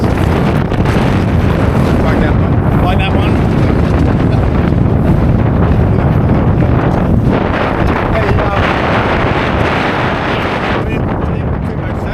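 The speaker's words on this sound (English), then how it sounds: "probably be over 20 knots in some of these gusts." Strong wind of over 20 knots roars steadily across the microphone in loud, buffeting gusts outdoors on a Com-Pac 16 sailboat, with a brief spoken remark partly buried beneath it.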